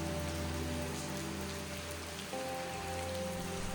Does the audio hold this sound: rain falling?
yes